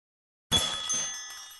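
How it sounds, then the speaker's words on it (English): A shop door chime in a video game rings once, a bright metallic jingle that strikes suddenly after silence and then fades out slowly with a shimmering tail. "The door chimes rang as someone, clad in protective gear, once again entered the store"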